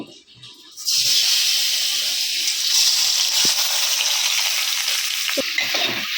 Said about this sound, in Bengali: ফ্রাইড রাইসের জন্য প্রথমে আমি চিংড়ি মাছটাকে একটু হালকা ভেজে নেব